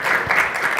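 Audience applause at a panel discussion on city extraterritorial jurisdiction, a steady wash of clapping heard briefly and fairly close, with no voices over it.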